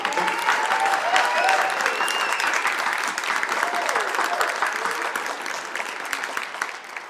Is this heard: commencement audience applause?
yes